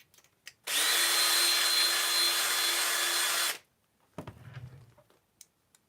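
A power case trimmer whirs in one continuous high-pitched burst of about three seconds as it cuts the mouth of a brass reloading case, followed by soft clicks and handling noise.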